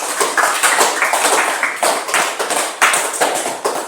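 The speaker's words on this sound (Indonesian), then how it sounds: "Dan kita berikan aplaus kepada kelompok 3" A classroom audience applauds a student group after its presentation. The clapping is loud, dense and continuous, with many hands and uneven bursts throughout.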